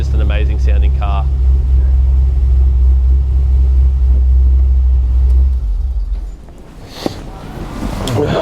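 An HSV Maloo R8 ute's 6.2 litre V8, a manual, gives a deep, steady rumble up close that fades away after several seconds, leaving quieter road and wind noise.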